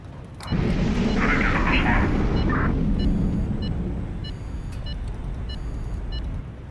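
In the naval strategy video game HighFleet, a missile is intercepted and destroyed: a loud roaring blast bursts in after half a second and holds as a sustained rumble, with faint electronic beeps and tones over it.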